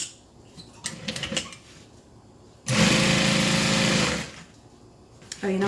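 Sewing machine sewing quilted squares together, a loud, fast, buzzing run of stitching lasting over a second, set between quieter handling clicks and rustles of fabric, with a brief restart at the end.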